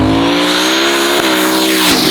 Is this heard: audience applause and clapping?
no